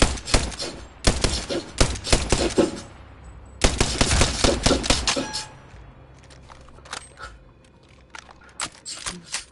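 A video game weapon fires bursts of sharp shots in quick succession, loud and close, then falls quiet before a few fainter, scattered shots.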